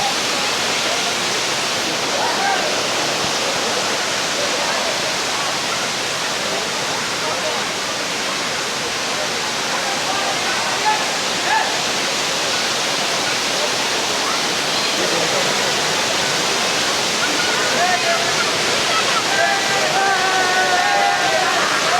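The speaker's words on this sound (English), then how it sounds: "The waterfall." A hidden waterfall near Mangalore roars as a loud, steady broadband rush of falling water that holds constant throughout, with faint voices now and then beneath it.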